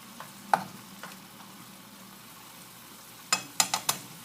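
Chicken sautéing in a pan, a soft continuous sizzle punctuated by sharp scraping clicks from stirring, a few scattered early and a quick cluster of four near the end, close and fairly quiet.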